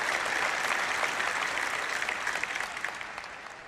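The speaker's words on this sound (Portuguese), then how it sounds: "dê ao Senhor uma salva de palmas." A church congregation applauds, a dense and continuous wash of clapping from many hands that stays loud and gradually tapers off, with no one talking.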